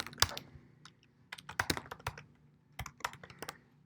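Keys tapped on a computer keyboard while entering a PIN, a few quick irregular bursts of clacks with short pauses between them, close and clear with no talking.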